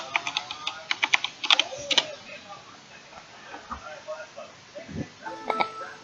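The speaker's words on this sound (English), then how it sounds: "Let me type my password." Password typed on a computer keyboard: a close burst of quick, uneven key clicks, then a few scattered taps and louder single presses toward the end.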